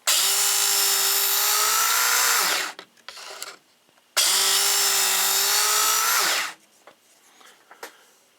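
A Smiths electric knife sharpener grinds a knife blade in two long passes of a few seconds each. Each pass is a loud, close, high whining grind that tails off as the blade is drawn through, with quiet handling noises between passes.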